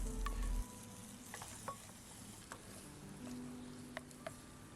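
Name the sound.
meats sizzling and being stirred in a pan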